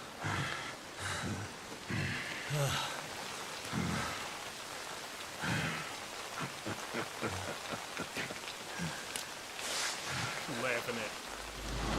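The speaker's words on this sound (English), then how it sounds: "Oh, it's raining." Steady rain hissing over the scene in the video game Lost Judgment, a soft continuous wash with scattered drops and occasional thuds, running underneath intermittent game voices.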